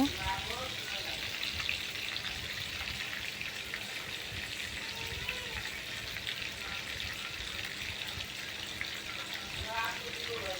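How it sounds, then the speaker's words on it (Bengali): Fish frying in hot oil in a pan, a faint continuous hiss and crackle with a soft voice talking faintly at times. "এখন আমি মাছটা ছেড়ে দিলাম। মাছগুলো ভালো করে ভেজে নিব।"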